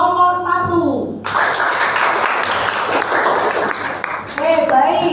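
Schoolchildren in a classroom clap for a group's presentation, a steady burst of applause lasting several seconds under and between an adult's voice speaking.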